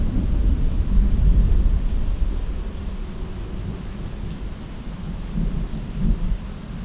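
Steady rain falls through a thunderstorm while low thunder rumbles, swelling loudest early and rolling again near the end, with no voices.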